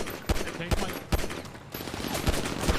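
AK rifle fire in GTA V, heard as several sharp, separate gunshots spread across the moment over a busy background, moderately loud and fairly close.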